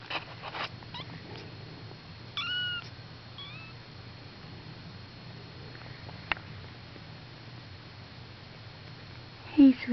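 Baby kittens give a few faint, high meows, short and spaced apart, over a quiet background while a person speaks softly nearby.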